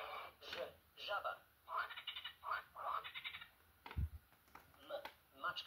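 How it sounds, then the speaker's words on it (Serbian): A frog sound effect from a children's learning tablet: a series of rhythmic croaking bursts, repeated several times at a moderate, fairly quiet level. "Ž. Žaba."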